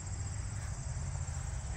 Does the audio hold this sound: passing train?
no